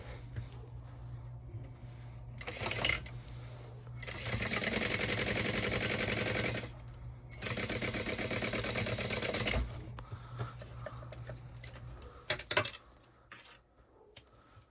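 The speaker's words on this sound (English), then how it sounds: "we're going to top stitch that second piece" A sewing machine top-stitches a fabric pouch. Two sustained runs of close mechanical whirring come in bursts of a couple of seconds, separated by quiet pauses and small handling clicks.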